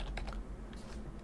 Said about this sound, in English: And we'll just type it in.